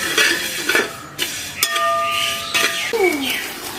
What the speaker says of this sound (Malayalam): അപ്പൊ ഇനി ഇത് നമുക്കൊരു വേറൊരു പാത്രത്തിലോട്ട് മാറ്റിയെടുക്കാം.